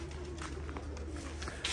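Hungry pigeons in a loft cooing softly and repeatedly at close range, with faint scattered flutters and a brief louder burst near the end.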